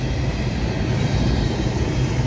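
A freight train passes nearby in Ohio as its final cars roll by, giving a steady, loud rumble of wheels and wagons with no break throughout.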